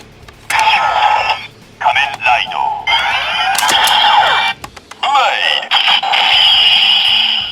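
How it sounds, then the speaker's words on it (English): Electronic transformation sound effect from a Kamen Rider Decade Decadriver belt toy playing Blade's henshin: a loud run of bright synthetic bursts, zaps and voice-like effects broken by short gaps, no talking over it. "And that's Blade's henshin sound."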